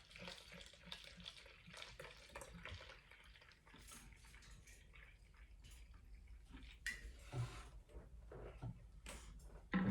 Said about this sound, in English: I just go in and fill the rest up with water